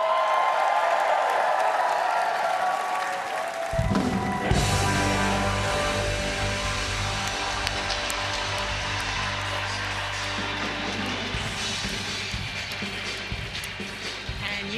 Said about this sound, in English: the applause and celebration here in Milwaukee, Wisconsin